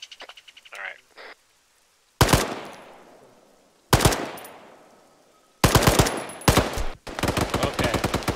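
Gunfire cracks out in a military squad-training video game, three loud, close single bursts, each followed by a long echoing decay, then a dense stretch of rapid automatic fire at the end.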